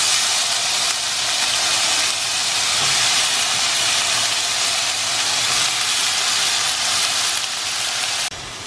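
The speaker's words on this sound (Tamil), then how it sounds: "ஆயிலில் நம்ம இந்த கட் பண்ணி வச்சுருக்கோங்கள இந்த வாழைத்தண்டை வந்து போட்டுருவோம்." Chopped banana stem dropped into hot oil in a pressure cooker sizzles in a steady, loud, dense hiss that continues unbroken throughout, easing slightly at the very end.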